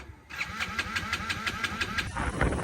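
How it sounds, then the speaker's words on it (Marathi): A vehicle engine that had stalled cranks after a brief pause, with rapid rhythmic starter pulses for about two seconds before catching and running rougher, close by. "तर शेवटी गाडी चालू झाली आपली"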